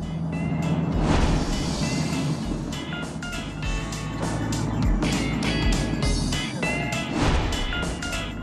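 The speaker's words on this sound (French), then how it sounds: "Comme ces voitures qui arrivent tout droit sur lui." Traffic rushing head-on toward a car driving the wrong way on a road with a central median, a steady loud roar of engines and passing vehicles with brief beeping tones on top.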